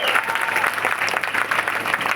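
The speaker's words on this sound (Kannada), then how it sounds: "ಜೋರಾದ ಚಪ್ಪಾಳೆ, ಚಪ್ಪಾಳೆ ನಿಲ್ಬೋದ್ರೆ ಅಷ್ಟೇ" Loud, sustained applause from an audience fills the room, a dense crowd of clapping hands holding steady without pause.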